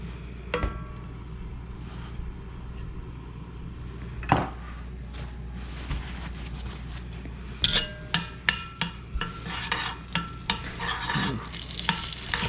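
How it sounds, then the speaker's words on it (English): Sichuan beef fries in oil in a wok, with a low steady sizzle under repeated clacks and scrapes of a utensil stirring against the pan, close and moderately loud. "Fry it in the oil until the oil starts taking on a nice red color."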